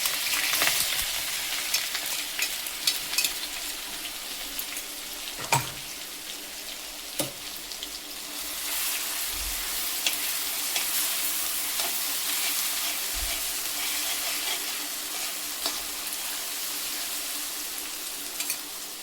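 Crushed curry leaves and cumin sizzle and crackle in hot tempering oil while making chakolya, a steady mid-level fry with a few soft clinks of a spoon and no talk.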